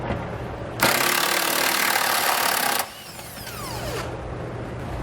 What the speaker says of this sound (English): We'll use a 22mm socket.